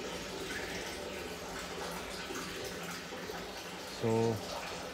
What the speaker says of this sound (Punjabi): ਹੁਣ ਟੈਂਕੀ ਡੇ ਆ ਭਰਨ।